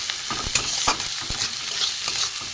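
Ground spices with turmeric, salt and garam masala are stir-fried in a pan for a fish roe fritter curry, giving a steady sizzle broken by several sharp spoon scrapes and stirring strokes, close and fairly loud, with no talking.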